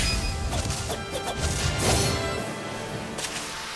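Sword Rain Alpha attack effect from Tales of Arise: a rapid burst of sharp metallic slashes and crashing impacts, swishing in quick succession before a final heavy smash trails off.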